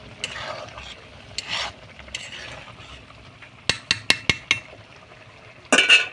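Lote fish with meat masala is stirred in a pan, soft scraping strokes first, then a quick run of sharp spoon taps against the metal and a final rattling scrape.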